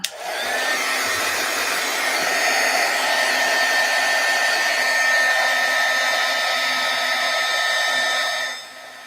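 An embossing heat tool blowing and whirring steadily over embossing powder, a loud, close, continuous fan-like drone that starts abruptly and winds down near the end.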